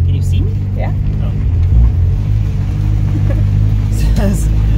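A single-cam turbocharged Honda Civic with loose rod bolts is on its first drive, its engine humming steadily and close from inside the car, while people talk over it.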